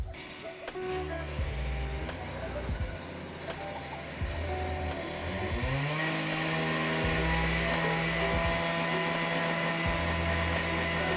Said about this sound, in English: the big grinder, the saw, the cutoff saw, will reach where the little grinder wouldn't anyway